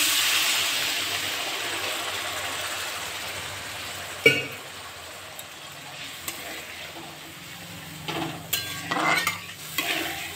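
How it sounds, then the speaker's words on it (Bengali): Water hits cooked spice paste in a pan for an oil-free fish curry, giving a loud hiss and sizzle that fades to a softer bubbling, with a sharp clank and stirring scrapes later. "মশলাটা কষা হয়ে গেছে, এর একটু জল দিয়ে দিচ্ছি।"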